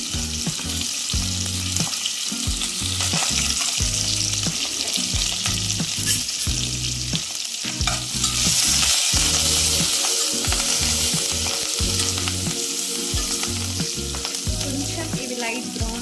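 Onions, green chillies and curry leaves fry in hot oil for a tadka for Maggi noodles, a loud continuous sizzle with intermittent scraping and stirring of the spoon against the pan, close and steady throughout, with no talking.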